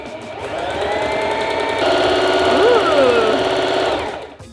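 A sewing machine runs fast while stitching a skirt, with a loud, close, rapid mechanical whir that rises slightly midway and keeps going for several seconds before slowing to a stop.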